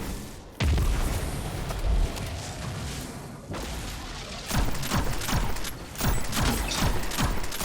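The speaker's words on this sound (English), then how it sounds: "This grenade might do it." A grenade explodes during a solo Grandmaster Nightfall in Destiny 2, with loud broadband blasts and bursts of combat noise recurring in close succession over a constant rumble of game sound.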